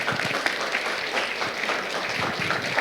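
A lecture audience gives sustained applause after a medical talk on airways disease; the clapping is full and continuous with slightly uneven bursts of individual claps.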